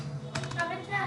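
Computer keystrokes clatter in a short quick burst, a few close clicks on a keyboard while HTML code is entered, with a low steady hum beneath.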